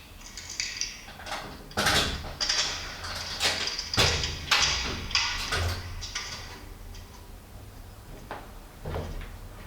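Clattering knocks and bangs from a door being handled, several sharp thuds and rattles spread across a few seconds in a quiet room.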